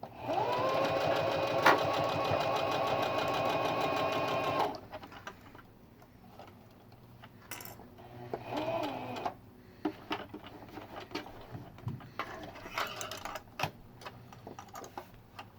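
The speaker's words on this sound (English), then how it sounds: "Make sure you back stitch a couple times to lock in the thread, like usual." A sewing machine stitches fabric for a face mask rapidly and steadily for a few seconds, back-stitching, then stops; quieter clicks and handling noises follow with brief bursts of motor whir.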